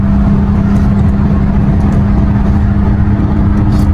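Steady road traffic on Al Khail Road in Dubai on a light holiday day, a continuous broadband rush of passing cars and engine hum with no talk.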